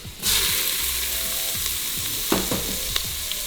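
Butter and onions sizzling hard in an Instant Pot, a loud, continuous frying hiss that starts abruptly, with occasional sharp clicks and scrapes of stirring.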